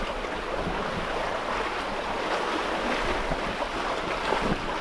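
Small waves of about a foot to 18 inches slap around a sailing boat moving at 5 to 7 knots in light wind under overcast sky, a continuous wash of water with steady wind rumble on the microphone.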